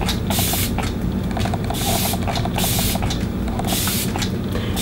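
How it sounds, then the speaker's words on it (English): Kat Von D setting spray misted onto a face in repeated short hissing bursts, several quick pumps in a row over a steady background hum, close and fairly loud. "I like to take my Kat Von D setting spray and just melt all this shit together."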